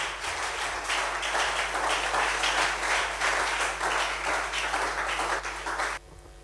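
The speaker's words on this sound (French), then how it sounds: "Est-ce qu'on peut ajouter des acclamations pour la parole?" A church congregation breaks into loud, sustained clapping and cheering, dense and even for about six seconds before cutting off abruptly to a low hum.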